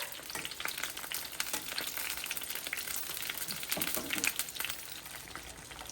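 Eggplant pieces fry in a pan with a steady, dense sizzle and crackle, close and continuous, with occasional stirring scrapes and no talk.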